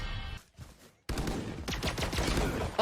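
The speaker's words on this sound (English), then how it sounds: "he's shooting through the smoke" Gunfire in the video game Valorant, with a short burst that cuts to near silence, then resumes as rapid repeated shots crackling densely until the clip ends.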